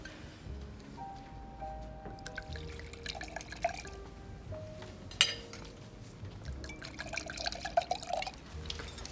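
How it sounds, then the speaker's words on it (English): Wine poured into a glass at a formal hotel dinner table, a dripping liquid trickle with light clinks of glass and dishes over a murmuring dining-room background, no clear talk. "Would you pour the wine, dear?"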